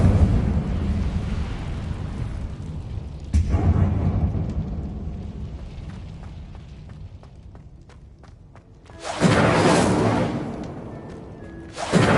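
A fire spell bursts out in Hogwarts Legacy with a sudden whooshing flare, followed later by a louder roaring blast of flame over low rumbling game ambience and scattered footsteps.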